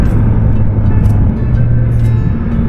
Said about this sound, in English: The quick shifter works very nicely also,